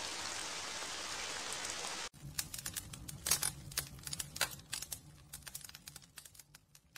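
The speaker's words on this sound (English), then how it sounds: "It's raining." Steady rain hiss fills the first two seconds, then cuts to scattered sharp taps and drips of varying loudness.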